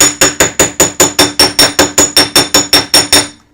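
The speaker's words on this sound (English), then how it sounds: "you want to go ahead and hammer out your wire so that it doesn't roll away from you" A fast, steady run of about fifteen loud, ringing hammer strikes flattens wire solder on a hard surface, close and bright with a metallic clink, ending in a brief ring-out.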